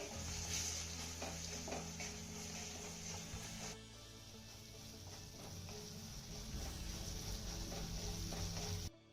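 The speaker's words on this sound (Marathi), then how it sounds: "आता हे घातलेले सगळे मसाले आपल्याला एक मिनिटभर चांगले परतून घ्यायचे" Kashmiri chili powder, turmeric and coriander powder sautéing in a pan, a steady close sizzle with scraping stir strokes throughout, dipping slightly midway.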